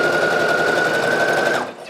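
A sewing machine runs in a steady, close, rapid whir while stitching and reverse stitching a hidden pocket, then slows and stops near the end, with a voice faintly talking over it.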